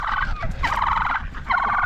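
A group of turkeys in a backyard flock gobbles nearby in loud, bubbling rattling calls, with two or three overlapping gobbles rolling in quick succession over a low background rumble.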